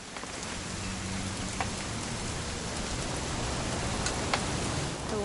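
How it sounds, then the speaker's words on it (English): Continuous rainfall in What Remains of Edith Finch, a broad steady wash of patter with a few sharper drips standing out, no speech, evenly loud from start to end. "It's gonna rain the whole weekend, isn't it?"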